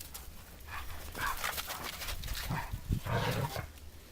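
Small dogs scuffle and tussle in snow, with soft thumps, rustling and faint whimpers in irregular bursts at moderate distance. No one talks over it.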